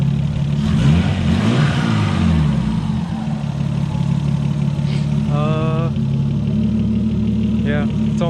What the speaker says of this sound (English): here's my stupid little RB20 that is idling like shit right now for some reason.